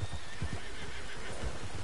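A horse in Red Dead Redemption 2 Online whinnies and its hooves clip-clop in a low, rhythmic patter against a steady background wash of ambient noise.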